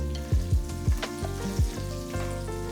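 Butter melting with a tablespoon of oil in a wide kadai, a soft sizzle beneath several sharp utensil knocks and clatters, close and without talk.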